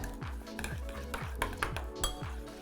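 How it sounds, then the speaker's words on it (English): A spoon stirs agave nectar and cinnamon into a drink, clinking rhythmically against the glass about six times in quick succession, close and clear with no talking. "some agave nectar, and give it a good stir."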